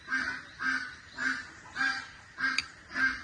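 A hen cackles after laying an egg. About six evenly spaced, moderately faint squawking calls repeat in a steady rhythm with no voices.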